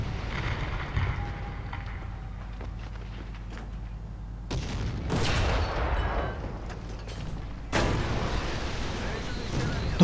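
Heavy artillery fire in the War Thunder video game, with booming blasts around the middle and again near the end over a constant low wind-like rumble, and a voice faintly present.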